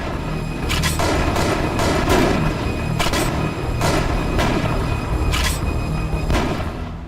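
Repeated shotgun blasts from the stealth-horror game Manhunt 2, about five sharp, loud reports at irregular intervals of roughly one to two seconds over a dense, rumbling background of game noise.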